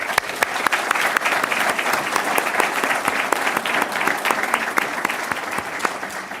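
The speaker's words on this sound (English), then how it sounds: "So please join me in a big clapping." An audience at the opening ceremony of a real estate development master's program at IE claps continuously, a crisp and sustained round of applause with no talk.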